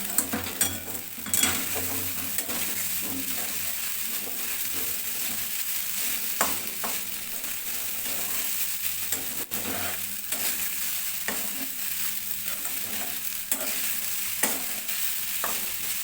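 Sabudana khichdi is stir-fried in a pan, giving a steady hiss of frying under repeated spoon scrapes and occasional taps against the pan, close up and with no voices.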